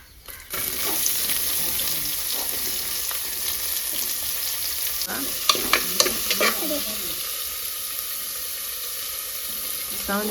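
A large onion sizzles steadily in hot oil in a pan for chicken biryani, with a spoon scraping and stirring through it at close range and a few sharp clinks, no talking.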